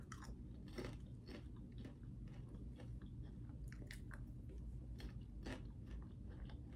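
Boom Chicka Pop Cinnabon kettle corn with cinnamon dust and icing glaze being chewed close up, a quiet run of crisp crunching bites repeating steadily with no talking.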